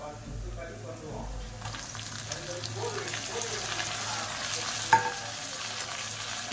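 Tomato and onion sauté in a pan for brinjal kulambu, a low sizzle that grows after a muffled start, with occasional scraping and one sharp clink, close and moderately quiet.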